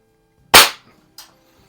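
A Norica Dream Hunter .177 underlever spring air rifle fires a single pellet, giving one sharp, loud crack. A fainter metallic click follows about half a second later in otherwise quiet surroundings.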